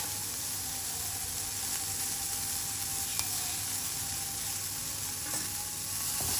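Chopped onions fry in a pan with salt while cooking lady's finger, giving a steady close sizzle throughout with faint scrapes and clicks of stirring.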